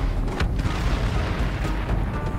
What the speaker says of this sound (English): Then a massive explosion wrenched the air.